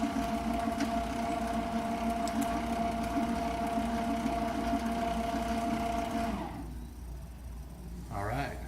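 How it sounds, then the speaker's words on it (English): A tensile testing machine motor running steadily as the crosshead returns to zero, a constant mechanical hum with tonal whine that stops abruptly near the end, followed by a brief voice. "Tell the machine to come back to 0."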